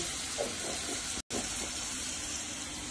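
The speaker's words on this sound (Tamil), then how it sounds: "நல்லா வதக்கி கொடுக்கலாம்" Ground spices such as cinnamon and cloves sautéing in a pan, a steady loud sizzle and hiss with a few soft stirring scrapes and a brief gap midway.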